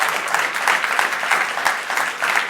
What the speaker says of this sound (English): A big round of applause for everyone on stage.